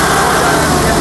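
A Kubota MU5502 4WD tractor's diesel engine roars at full throttle around 2000 RPM, a dense, loud, continuous drone with no pauses.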